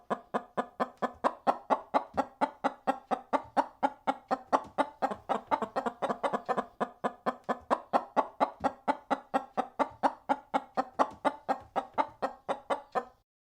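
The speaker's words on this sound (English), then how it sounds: "chicken." A chicken clucks in a steady, rapid run of short repeated calls, close and fairly loud, with no other sounds around it.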